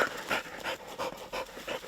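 A pointing dog pants rapidly and rhythmically, close by, with quick breathy puffs and no talking, during a grouse hunt in Swedish Lapland.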